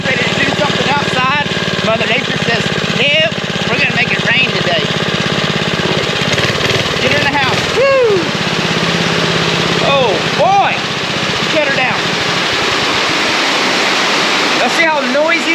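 Heavy rain pours down steadily, a loud dense roar filling the space, with voices talking over it throughout.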